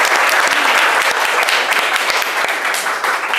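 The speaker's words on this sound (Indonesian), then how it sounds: "Kita beri aplaus dulu semuanya." Students in a university classroom give a steady round of applause, a loud, dense wash of many hands clapping throughout.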